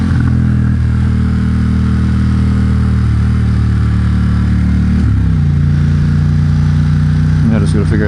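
A 2021 Ducati XDiavel Dark fitted with a Vandemon exhaust and dB killers idles and rumbles loudly up close, a deep steady throb that shifts pitch midway, with a few clicks near the end.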